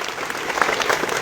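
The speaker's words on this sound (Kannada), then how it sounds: "ಜೋರಾಗಿ ಚಪ್ಪಾಳೆ ಹೊಡೀರಿ" A crowd applauds at Shashikant Guruji's speech in Ugar Budruk, Kagwad taluk, a short burst of dense, energetic clapping from many hands, steady and fairly loud throughout.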